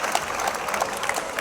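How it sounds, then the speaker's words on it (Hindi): A school audience during a dialogue session applauds, a dense, steady burst of many hands clapping at moderate loudness, with no other sounds standing out. "ताली बजाइए साहब"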